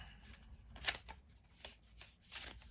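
Lenormand cards being shuffled by hand, a few quick, soft riffling bursts and light slaps, close and quiet.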